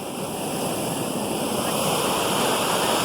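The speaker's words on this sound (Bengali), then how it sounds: "প্রচুর স্রোত এখানে" Strong, steady roar of rushing water surging through the Boroi sluice gate near Magura town, a dense, continuous broadband torrent with no pauses and no voices.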